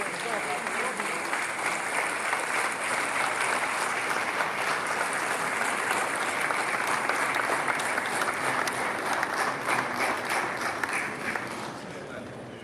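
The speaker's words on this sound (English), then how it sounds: "shall we please rise as we welcome the President of the Republic of Ghana, His Excellency, President John Dramani Mahama, with a resounding round of applause." A large audience gives a loud, sustained round of applause welcoming Ghana's President John Dramani Mahama at the opening of a horticulture expo, steady and dense throughout before easing off at the end.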